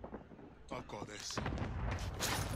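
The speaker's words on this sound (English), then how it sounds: "Grenade." A grenade goes off in Call of Duty: Warzone, a low, rumbling blast that swells and lingers near the end after quieter scattered game sounds, fairly soft overall.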